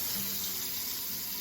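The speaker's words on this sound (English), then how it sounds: "I'm gonna fill it up with some water." Tap water pours steadily into a medium-sized pan, a continuous close hiss and splash with no pauses or talk.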